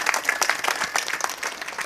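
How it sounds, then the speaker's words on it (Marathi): Dense, steady applause from an audience for the singers at a kirtan in Digras, many hands clapping together close by for the whole moment. "ह्या गायक मंडळीसाठी एकदा जोरदार टाळ्या वाजवा"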